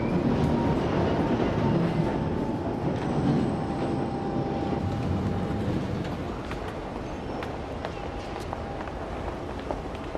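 A train rumbles steadily past with a dense rolling clatter of wheels on rails, loud and near, easing slightly toward the end.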